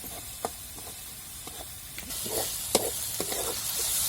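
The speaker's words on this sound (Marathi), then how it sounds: "मिरची चांगली परतून द्यायची" Green chilies sautéing with cumin in oil for a green chickpea chutney, a soft steady sizzle with occasional light taps of a spoon against the pan.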